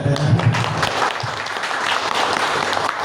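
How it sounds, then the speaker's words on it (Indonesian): Applause from an audience at an Islamic preachers' presentation-skills session, a steady spread of clapping lasting throughout, fairly loud and close, with a brief murmur of voices near the start. "Tepuk tangan dong."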